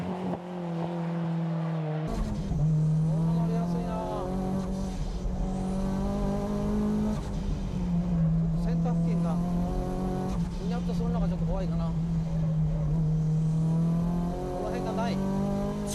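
A car at speed on the Fuji circuit drones with a loud, sustained engine note that rises and falls through gear changes and corners, with a commentator speaking over it.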